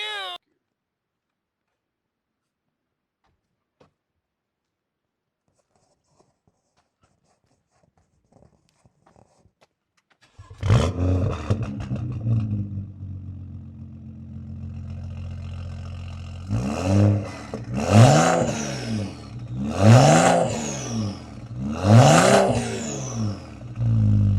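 Near-silence, then a BMW 535i engine fires up and idles with a deep rumble before several sharp revs rise and fall, loud and close.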